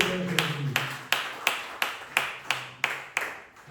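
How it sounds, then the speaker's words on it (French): Church congregation clapping in unison during a Tuesday worship service, a steady run of about ten sharp claps spaced roughly evenly, close and moderately loud, with a faint sustained voice or tone underneath. "Asseyez-vous et applaudissez encore pour le Seigneur Jésus."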